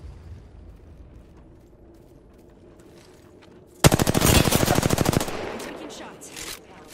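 Rapid automatic gunfire in the video game Apex Legends erupts as a loud, dense burst lasting over a second, with a few scattered shots trailing after it and faint in-game ambience before the burst.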